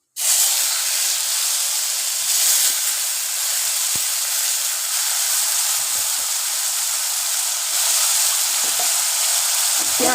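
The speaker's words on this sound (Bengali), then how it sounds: "এবার পেঁয়াজ বাটাটা তুলে দিচ্ছি।" Onion paste hits hot oil with a loud, steady sizzle and hiss that holds continuously from start to finish, close and bright.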